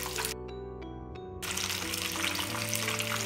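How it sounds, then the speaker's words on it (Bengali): Chicken katsu fries slowly in oil over low heat, a close, steady hiss that stops briefly while a few faint clinks ring out, then returns fuller and denser. "আস্তে আস্তে ভাজি করতে হবে"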